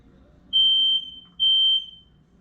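A smoke and carbon monoxide alarm sounds during a system test, giving two loud, shrill high-pitched beeps of about half a second each, separated by a short gap, over a faint low room hum.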